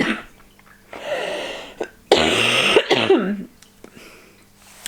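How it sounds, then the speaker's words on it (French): A person coughs in two strong, harsh bursts, the second longer and wetter-sounding, close to the microphone, followed by quieter breaths and small throat noises. "J'ai l'impression que ma toux elle change"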